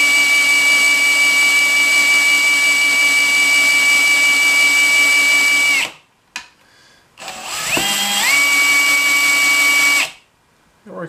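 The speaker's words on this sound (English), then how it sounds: "So I put my drill on there just to kind of show that it's freely moving" A power drill whines at a steady high pitch for several seconds, stops, then spins up again briefly before cutting off; loud and close.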